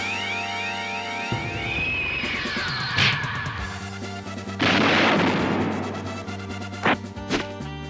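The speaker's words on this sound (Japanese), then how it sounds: "俺がこのサボテン爆弾であの世へ送ってやろう" In the Kamen Rider PS2 game, a villain's cactus bomb detonates amid synthesized game music, giving several sharp blasts and a longer crashing burst midway, followed by two more quick hits.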